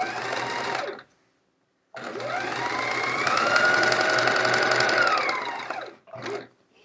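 Sewing machine stitching quilt pieces for a chevron quilt, running in a steady rapid whir for about a second, pausing, then a longer continuous run that speeds up slightly before a final short burst; no talking.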